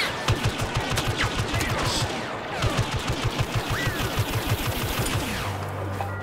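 Rapid blaster and gunfire bursts from Star Wars Battlefront survival gameplay on Tatooine, steady repeated shots in quick rhythmic volleys with a brief pause midway, mixed with game effects.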